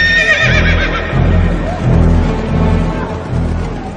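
Horses whinny loudly and repeatedly at close range as messengers mount swift horses from a royal stable and ride off, with faint hoof clatter beneath the calls.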